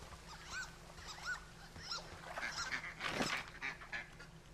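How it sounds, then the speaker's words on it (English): Ducks honking and quacking in Firewatch, several repeated nasal calls from a few birds at a moderate distance, with one louder burst midway. "I can hear the ducks, but I can't see them."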